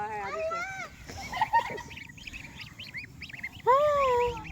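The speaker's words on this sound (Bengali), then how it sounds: "রাজহাঁসের বাচ্চা তো এগুলা না?" Young goslings give thin, high honks and peeps in short runs, close by, while people talk softly around them.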